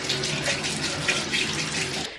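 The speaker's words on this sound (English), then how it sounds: "put it under some water and then just rinse it" A tap runs steadily while a towel is rinsed under it during a skin care routine after peeling off a face mask. The flow is continuous and fairly close, with no talking over it.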